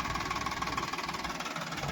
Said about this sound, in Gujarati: અને હે આ ટ્રેક્ટર મારે હાંકવાનું